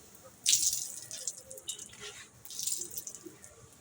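A washed bedsheet being wrung out by hand, with water splashing and dripping in two short bursts separated by quieter trickles, close and fairly faint.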